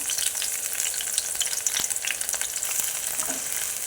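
Onions and curry leaves fry in a pan, a continuous close sizzle with popping crackles and occasional sharper spits, with no talking.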